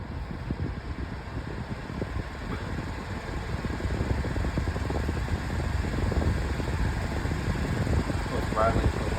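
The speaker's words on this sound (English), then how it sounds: "You guys can hear the fan is rattling, and it is shaking a lot too." A pedestal fan runs on its high setting with a steady broadband whir, its loose motor housing rattling and the whole unit shaking, loud and continuous throughout.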